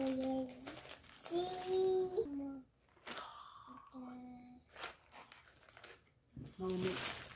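A cookie wrapper is opened, crinkling plastic heard in several bursts close up, interleaved with a voice talking and a child babbling.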